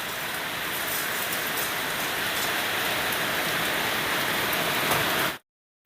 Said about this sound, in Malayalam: അങ്ങനെ മഴയായി പെയ്തിറങ്ങിയിട്ടോ.